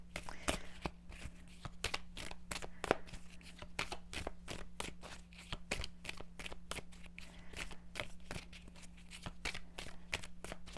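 Tarot cards are shuffled over and over in a quick, crisp riffling rhythm that keeps a steady pace. The sound is faint and close, with a low hum underneath.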